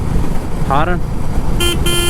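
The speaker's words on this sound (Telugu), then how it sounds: "హారన్ ఏమంత లౌడ్ లేదు" A Royal Enfield Meteor 350 motorcycle horn gives two short, not very loud beeps over steady engine and road noise, the second slightly longer.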